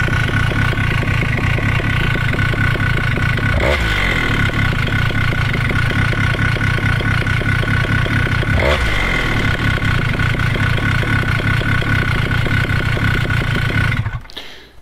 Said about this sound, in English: So you've seen that the motor is reactive, the low needle is fine, but yet it idles a bit too low.